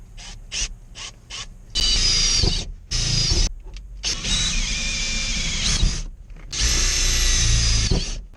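A power drill drives bolts to mount a CB radio, starting with quick short trigger pulses and then long loud whirring runs separated by brief pauses, close up with no talking.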